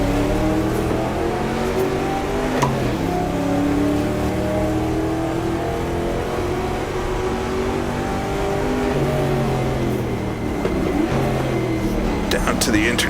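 A 1966 race car engine in the GTR2 racing game revs and drops through downshifts with a steady loud drone, pitch sweeping up and down over about thirteen seconds while someone talks over it.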